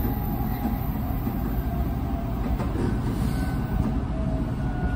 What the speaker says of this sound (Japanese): やっぱ新幹線ってすごいっすね。